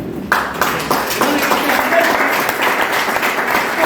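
An audience applauds a garment company founder, dense steady clapping that starts abruptly and swells into a loud, sustained round of many hands filling the hall.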